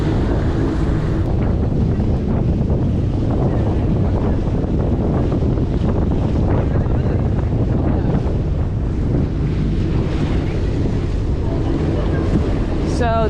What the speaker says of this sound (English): hopefully you guys can hear me because it's super windy